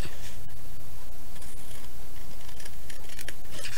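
Scissors snip through paper to shape an envelope, giving a few crisp cuts over a steady background hiss with no talking.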